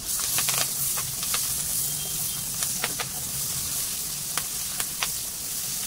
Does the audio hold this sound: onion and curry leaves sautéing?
yes